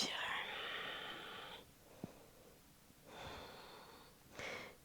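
Audible exhales during a pilates balance and grounding session: a long, breathy outward breath in the opening second and a half, then two shorter soft breaths later, close and fairly quiet.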